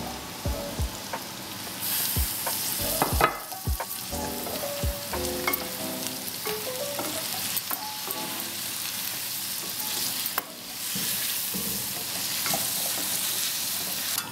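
Chinese karela (bitter gourd) and tomatoes sizzle loudly with pork in a hot pan, a steady fry broken by repeated clinks and scrapes of a utensil stirring, with a brief surge in the sizzle partway through.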